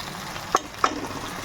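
Bottle gourd curry with fried cumin sizzles steadily in a pan, a soft frying hiss marked by two quick clinks of a utensil as the mixture is stirred.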